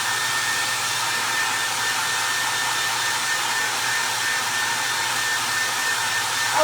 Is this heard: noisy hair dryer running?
yes